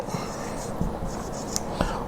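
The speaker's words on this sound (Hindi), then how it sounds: "फर्स्ट एग्जाम्पल यहाँ पर लिखता हूँ मैं" Chalk or marker scratching on a board while a math solution is written, a few brief strokes and taps over a steady room hiss, fairly faint, no talking.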